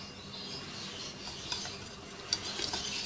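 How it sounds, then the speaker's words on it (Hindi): Spices being stirred into a mixture for a Mughlai Eid dish (turmeric, red chilli, black pepper and garam masala powders): a steady, close scraping and rubbing with a few sharper clinks toward the end, no voices. "सारे अज्जा को अच्छी तरह से मिक्स कर लेंगे।"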